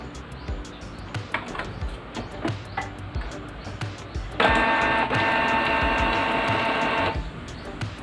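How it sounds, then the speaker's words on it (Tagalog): Canon G2010 inkjet printer running head cleaning whirs and ticks with rapid clicks, then settles into a loud, steady mechanical hum for several seconds before stopping. "Okay, done with head cleaning."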